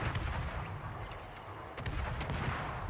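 Ship guns firing armour-piercing shells in the naval game Öland: loud booming salvos over a constant rumble, with several sharp blasts around the middle and end.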